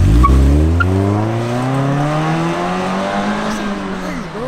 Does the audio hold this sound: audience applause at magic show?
no